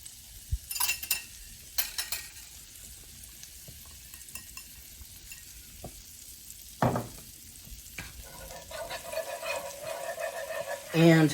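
Flour stirred into melting butter in a pan over low heat gives a soft, steady sizzle with occasional clinks and scrapes of a utensil against the pan, growing busier toward the end.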